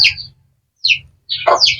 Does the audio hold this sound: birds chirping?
yes